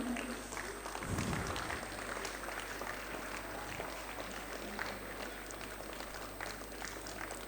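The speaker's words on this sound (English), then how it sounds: "Please put your hands together, parents." Parents in a school hall give a round of applause at an acknowledgements ceremony after a production of Into The Woods, a steady low patter of clapping under a hum of background noise.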